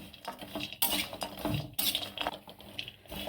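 Walnuts and pistachios roast in a little ghee in a pan while a spoon stirs and scrapes them, making irregular clinks and rattles over a light sizzle, close and quiet.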